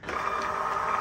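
A thermal label printer runs as a shipping label feeds out, a close, steady mechanical whir with faint ticking that starts abruptly and continues evenly to the end.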